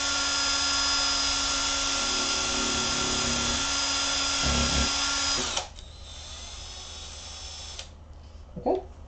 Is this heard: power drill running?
yes